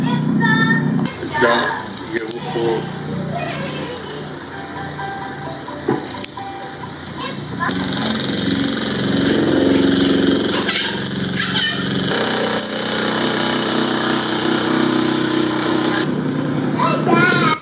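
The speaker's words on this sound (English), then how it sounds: "This fool done got the massager. He put it to the ceiling." A handheld massager pressed against a house ceiling gives a loud, continuous motorized buzz that runs through most of the stretch, with brief shifts in pitch and some voices speaking alongside it.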